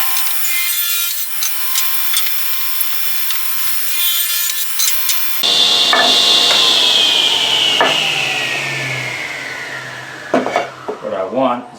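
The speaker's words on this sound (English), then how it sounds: "So I'll set the table saw there." Table saw resawing thin wood stock, shaving about a sixteenth of an inch: a close, steady blade whine and wood rasp that rises in pitch midway and then slowly falls, with brief clunks near the end.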